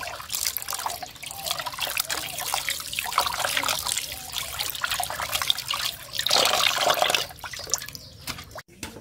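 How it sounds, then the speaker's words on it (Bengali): Goat stomach rinsed under running water, with close trickling, splashing and dripping that swells louder near the end, no speech over it. "এখন এইভাবে পানি দিয়ে ধুবো।"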